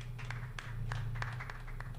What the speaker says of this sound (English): What forced clapping.